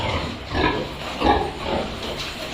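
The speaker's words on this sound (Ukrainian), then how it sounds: "свиноматка навела багатенько поросяток" Piglets grunt and squeal in short bursts, several overlapping close by, over a steady breathy background.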